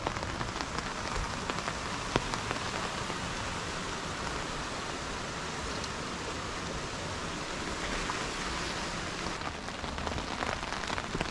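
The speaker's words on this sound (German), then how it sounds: "Ah, jetzt regnet es aber schön." Steady rain falls in a forest gorge, a dense, even hiss of drops pattering on surfaces, close and continuous throughout without talk.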